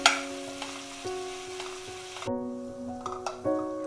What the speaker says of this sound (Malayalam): ഒനിയൻ നല്ല ഗോൾഡൻ ബ്രൗൺ കളറായി വരുന്നത് വരെ വഴറ്റി കൊടുക്കണം.